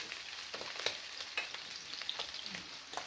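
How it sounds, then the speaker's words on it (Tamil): Food fries in oil with a soft, steady sizzle and light crackle, faint and even throughout, with no talk. "பொன்னிறமாக மட்டும் பொரிவார்"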